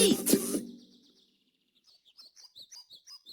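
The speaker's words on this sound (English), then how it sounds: "Do I hear another tweet?" Cartoon bird at a bird feeder in a children's counting show: after a brief louder burst and a pause, a run of quick, evenly spaced high chirps, about seven short tweets, fairly soft.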